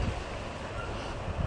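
Gusty outdoor wind buffets the microphone in a steady low roar with rumbling bursts at the start and end, no voices present.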